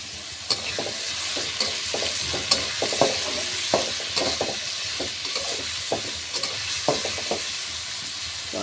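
Green chilies and chopped onion fry in oil in a wok, making a constant close sizzle broken by repeated sharp scrapes as a spatula stirs them.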